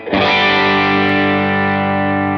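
An electric guitar chord rings out through a Line 6 Helix clean amp with hall reverb and quarter-note delay, struck once and sustaining evenly with a lush, spacious tail.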